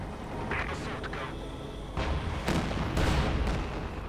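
Tank cannon fire and shell impacts in Company of Heroes 2, an armor-piercing round striking a tank, heard as several loud booming blasts over a dense battlefield rumble, with a commentator talking over the action.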